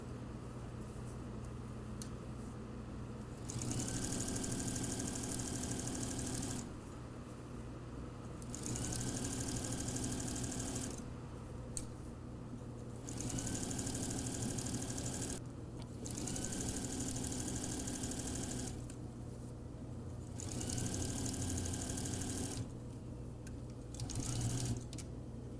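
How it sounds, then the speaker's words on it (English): Sewing machine stitching along the top edge of shorts fabric at an eyelet-inserted waistband, in several bursts of steady whirring separated by short pauses, close and fairly loud with a constant low hum underneath. "sew along the top edge here"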